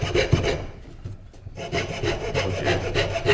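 A saw blade cuts through wood while a bottle opener is being made, with close, rhythmic rasping strokes that pause briefly, then resume in steady back-and-forth passes.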